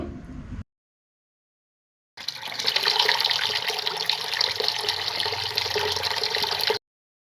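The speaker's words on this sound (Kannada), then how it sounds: "ಈಗ ಅದನ್ನು ನೀಟಾಗಿ ವಾಶ್ ಮಾಡಬೇಕು" Meat being washed under a running tap for homemade dog food, a short burst of water, then a gap of silence, then a loud steady gush of running water that continues for several seconds close by with no talking.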